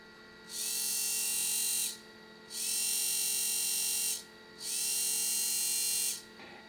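An Apple 800k 3.5-inch floppy drive mechanism spins in three even whirring bursts of about one and a half seconds each, separated by short pauses, over a faint steady hum.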